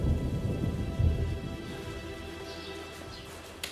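A sudden rain shower in open country near an old abbey, a dense steady hiss of rain with low rumbling, heaviest at first and easing slightly, close and alone.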